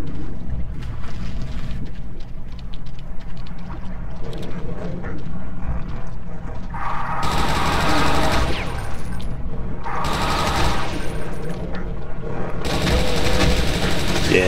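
Rapid mechanical gunfire rattles in the Brutal DOOM video game, a dense, loud, continuous stream of shots with louder bursts of blasts near the end.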